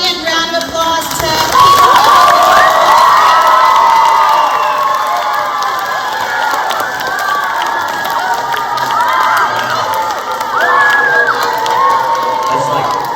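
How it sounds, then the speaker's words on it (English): A room full of schoolchildren erupts in loud cheering, shouting and clapping after an author and illustrator visit, a sustained roar with high excited voices whooping over scattered applause. "giant round of applause"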